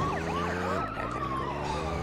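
Police car siren from the Grand Theft Auto 2 video game, a rising and falling electronic wail that loops steadily under engine hum and game noise, loud and continuous throughout.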